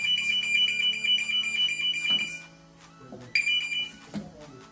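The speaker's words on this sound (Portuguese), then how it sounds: "O motor desarma, né? O alarme toca." A motor control panel alarm rings after an overvoltage trip. It is a loud, steady electronic tone that sounds continuously, then breaks into a few shorter bursts toward the end.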